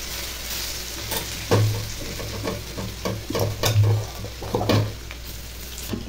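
Dry red chillies, bay leaf and garlic sizzling in hot oil for a dal tempering, a steady close fry with several stronger bursts of spitting and stirring clatter.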